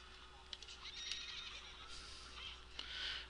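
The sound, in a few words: horse neighing in video game Zelda Ocarina of Time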